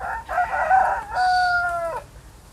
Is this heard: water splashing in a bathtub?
no